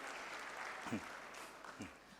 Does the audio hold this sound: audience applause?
yes